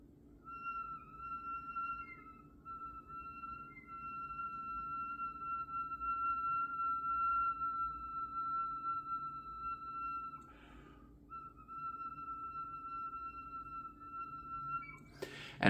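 Flute whistle tones: thin, pure high whistles held steadily, sometimes two at once, over a faint hiss of breath, with a short break near the end.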